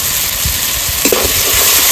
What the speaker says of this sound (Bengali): এইবার দিয়ে দেবো বেটে রাখা সর্ষে,